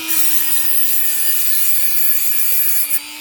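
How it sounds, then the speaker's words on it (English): A rotary motor tool with a fiberglass cutting wheel grinds a metal part of an Atlas Master model locomotive truck, giving a loud, steady high-pitched whine that holds for about three seconds, then eases off near the end. "I'm going to take the fiberglass wheel on the motor tool"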